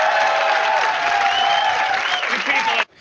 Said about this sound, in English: Audience, we will determine the winner by applause